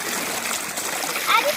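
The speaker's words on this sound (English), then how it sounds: "As you can see, we're going down the waterfall." Creek water rushes down a small waterfall, a close, continuous splashing wash, with a brief bird-like chirp near the end.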